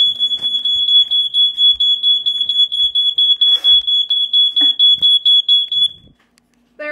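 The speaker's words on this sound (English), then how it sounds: "And there's the smoke detector." A smoke detector sounds a loud, rapid, high-pitched repeating beep for about six seconds, then stops abruptly.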